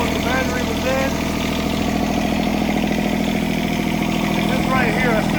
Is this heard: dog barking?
no